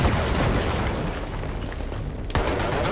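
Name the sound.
tank destroyed by anti-tank explosion in the video game Battlefield 3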